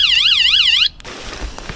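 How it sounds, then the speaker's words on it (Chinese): A camper car's alarm wails loudly and close in a fast, rising-and-falling electronic siren for under a second, then cuts off abruptly, leaving quiet room tone. "给你们看警报器啊！"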